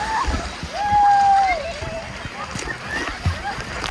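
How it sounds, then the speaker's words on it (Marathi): Water splashes and sloshes at a busy water park, a steady wet wash under voices and crowd noise, with a brief whistle-like tone partway through. "आणि पाणी उडवायचं"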